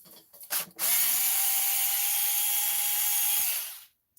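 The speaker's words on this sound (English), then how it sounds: "at least I got a power driver to do it" A cordless power driver whirs steadily for about three seconds, loud and close, as it drives screws into an RC truck, with a few short clicks and knocks before the motor spins up and stops.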